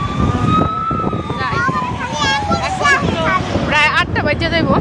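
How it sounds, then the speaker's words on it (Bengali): An ambulance siren wails past on a busy Dhaka street, rising and falling loudly over traffic and wind noise, while a person speaks briefly nearby. "খালি অ্যাম্বুলেন্স আসে।"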